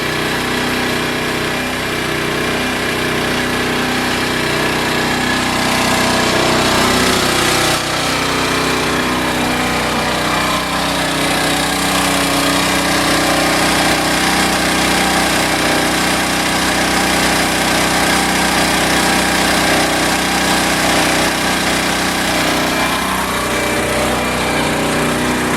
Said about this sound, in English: 1500 watt generator.